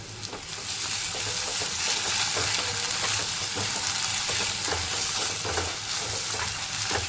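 Onion, green chillies and ginger-garlic paste fry and sizzle in a pan in a steady, close crackling hiss, with faint stirring throughout and no talking.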